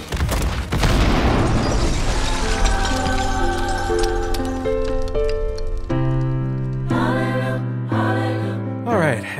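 Grenade launcher explosions wrecking vehicles in Modern Warfare 3, a loud opening boom trailing into rumble and debris, followed by layered tonal game music and further bursts of noise.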